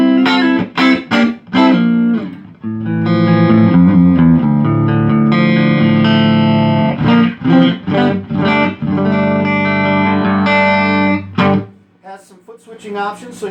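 An electric guitar played through a Fender Deville amplifier converted into a Dumble-style amp: a loud, close run of picked notes and ringing sustained chords with slight overdrive, pausing briefly and then continuing in phrases.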